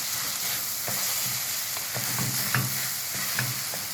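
Rice being stirred in a hot pan while it cooks with salt, a continuous close sizzle with soft scraping strokes of the spoon that come and go, and no talking.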